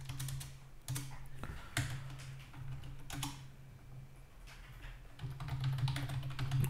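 Quick bursts of keystrokes on a computer keyboard, close and fairly quiet, with short irregular pauses between the runs and a low hum underneath.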